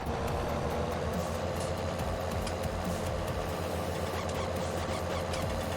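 Tractor engine in Farming Simulator 19, a modded model with altered gear sounds, running as a steady, loud continuous drone with no pauses, heard alone.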